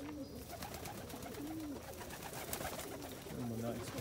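Crested homer pigeons coo in soft, repeated throaty phrases at close range, several birds overlapping over steady background noise.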